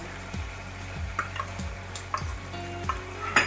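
Spoon stirring frying masala in a pan after cashew-poppy paste is added, with soft sizzling under a series of repeated scraping strokes and light clinks, close and fairly quiet.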